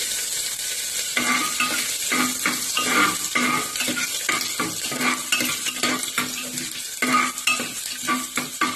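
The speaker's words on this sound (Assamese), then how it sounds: "এতিয়া এইখিনি অকণমান গৰম তেলত লৰাই দিয়ক। এতিয়া মই যিখিনি আদা নহৰু কুটি থৈছিলোঁ সেইখিনি দিলোঁ" Chopped ginger and garlic stirred in hot oil while cooking an Assamese chickpea dal with vegetables. A bright, continuous sizzle runs under rhythmic scraping strokes of a spoon against the pan throughout.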